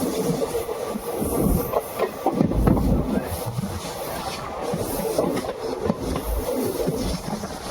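Runicha Express train 14087 rolls along a curving track near Ringas Junction, with a steady close rumble of carriages and irregular wheel clatter and rail noise that swells and fades as the coach rocks through the bend.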